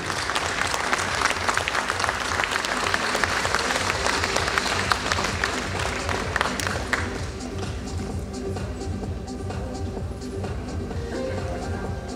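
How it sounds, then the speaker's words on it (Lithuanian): Steady applause from a crowd, dense clapping that carries on for several seconds and eases slightly in intensity toward the end. "Geležinis Saulius Misevičius, jūsų plojimai."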